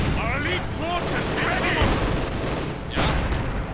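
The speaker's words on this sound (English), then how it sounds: "So much artillery, and the base is simply slowly falling apart" Dense battlefield gunfire and artillery from Company of Heroes 2, a 1v1 match, rattling continuously with heavy booms and bursts near the end, while a voice speaks over the barrage.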